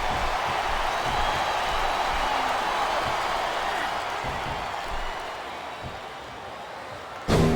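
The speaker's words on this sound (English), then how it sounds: "It sounds like this capacity crowd has something on their minds, Taz." A large crowd in the wrestling video game Smackdown vs Raw 2007 roars as a broad, steady wash of noise, fading slightly before a sudden louder burst at the very end.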